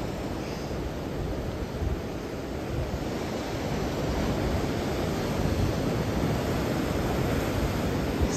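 Ocean surf rolling in at Bajamar on Tenerife, a steady broadband roar of breaking waves with gentle swells in loudness, heard alone with some wind buffeting.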